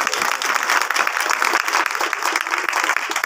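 A church congregation claps hard and continuously in praise of Jesus Christ during worship. The dense, close applause holds at an even level for the whole stretch, with no talking over it.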